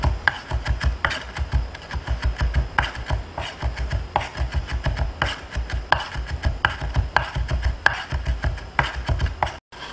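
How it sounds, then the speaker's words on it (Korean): Knife rapidly and finely mincing onion on a cutting board, a fast, steady series of close, sharp chopping taps repeating throughout. "뒷날로 다시 한번 다지면서 곱게."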